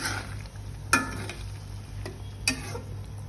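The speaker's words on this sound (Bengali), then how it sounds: "টমেটো দিয়ে ভালো করে নাড়িয়ে নেব।" Tomatoes are stirred in a pan for a prawn curry: a faint, low sizzle runs throughout, broken by two sharper utensil scrapes about a second and a half apart.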